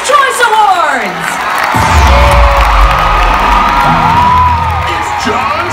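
At the Kids' Choice Awards, a big crowd of children cheers loudly, with shrill whoops and sliding screams, and a deep roar of shouting swells in partway through and stays strong to the end.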